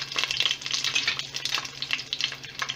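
Okra curry base of mustard seeds, curry leaves, garlic and green chilli sautéing in a hot pan for Chettinad vendakkai puli mandi, a steady close crackling sizzle with soft stirring throughout.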